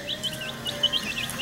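Young chicks peep in quick high chirps, several overlapping, over a faint steady background hum.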